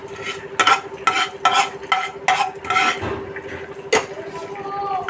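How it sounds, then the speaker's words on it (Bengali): A spatula stirs and scrapes spices frying in a pan for Bengali fish curry, giving about half a dozen rhythmic, fairly loud strokes over a low steady hum and a soft sizzle. "দেখো এই নেড়ে নিচ্ছি"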